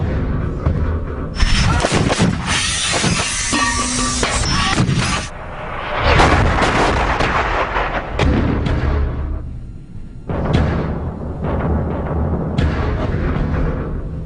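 Artillery guns fire rounds at the British Royal School of Artillery, heavy booming blasts with rumbling echoes heard from close range, several shots spread across the span with brief quieter gaps between them.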